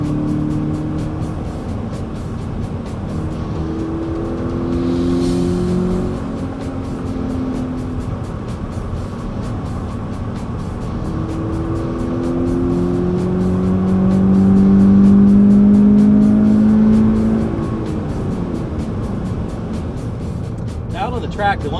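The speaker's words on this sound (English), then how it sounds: "This is actually a fairly loud car, both in terms of engine noise as well as road noise and wind noise." A 2013 Scion FR-S sports coupe roars around a race track, its engine droning loud and steady with rising and falling pitch, heavy road and wind noise mixed in throughout.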